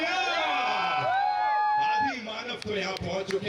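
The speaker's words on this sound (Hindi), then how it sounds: "जावेद जाफरी साहब के लिए जोरदार तालियां" Crowd noise and cheering with whoops at a film trailer launch event for Dhamaal 4, loud and continuous, with a sustained musical tone running under the first two seconds before scattered shouts and claps take over.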